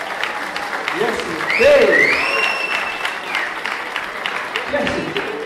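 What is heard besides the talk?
audience applause for Sophie Anderson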